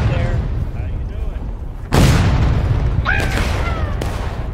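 Gunfire in a war video game: a loud, booming shot cuts through constant battle noise, with a rumbling tail and distant echoes afterward.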